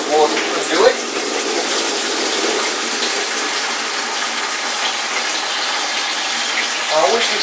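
Tap water pours steadily into a pail for homebrewing an Australian stout, a loud continuous gush with a few small clunks near the start and end.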